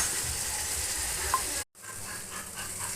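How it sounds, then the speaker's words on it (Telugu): Ginger garlic paste with tomato pieces stirred and sautéed in a pan for fish curry, a close, steady sizzling hiss with light stirring, cut by a short silent break before the frying resumes. "అల్లం వెల్లుల్లి పేస్ట్ ఉంది కదండి, అటు ఇటు కలపాలి. మగ్గిన వరకు బాగా కలుపుతూ ఉండాలి."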